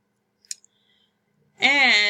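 Mouse clicks while flipping through study flashcards on a computer: a quick cluster of crisp clicks in near silence, followed by a person starting to speak.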